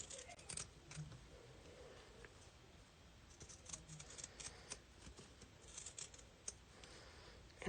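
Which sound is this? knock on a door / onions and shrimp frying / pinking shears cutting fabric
pinking shears cutting fabric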